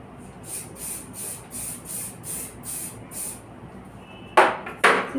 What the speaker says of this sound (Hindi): कैसे शाइन स्प्रे किया